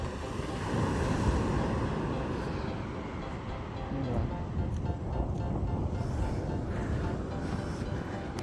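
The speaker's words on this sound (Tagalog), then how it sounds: "Yun, laki ng alon." Large ocean waves surge and wash in at low tide on a calm, not very windy shore, a broad continuous roar of surf close by with rising and falling swells; voices talk faintly at times.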